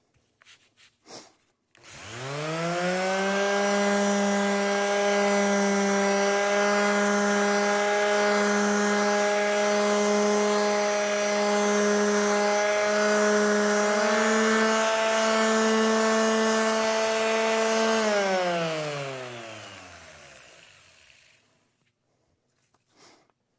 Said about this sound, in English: I'm going to move on to using a finish sander with an abrasive